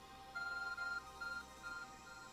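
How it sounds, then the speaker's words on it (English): An Arc Phone beeps in Pokémon Legends: Arceus, a faint electronic tone pulsing three or four times in an uneven rhythm over a quiet game backdrop, with no one talking. "Arc phone is beeping again."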